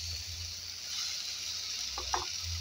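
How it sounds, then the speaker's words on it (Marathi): Four or five garlic cloves fry in oil for a fish saar, a soft, steady sizzle heard up close with a quick utensil clink near the end and no talking. "तेल टाकलेलं आहे आणि आता त्याच्यामध्ये लसूण टाकलेलं आहे"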